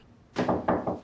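Someone bangs on a locked interior door, three heavy dull thuds in quick succession, close but fairly soft.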